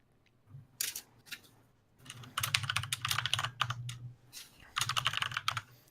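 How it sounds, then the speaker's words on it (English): Mechanical gaming keyboard being typed on, close and crisp with irregular bursts of rapid clacking keystrokes separated by short pauses, with no voices. "I've got one of those gamer keyboards. Mechanical keywords."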